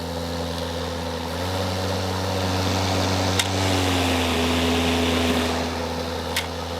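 A DeWalt electric lawnmower motor whirs steadily up close, then its pitch climbs and it winds up faster as the self-drive engages, settling into a higher, even drone with a couple of faint clicks.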